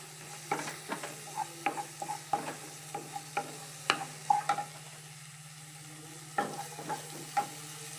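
Shallots sauté in oil for a prawn and drumstick curry as tomatoes go in. A spoon scrapes and taps in a steady rhythm over a soft sizzle and a constant low hum.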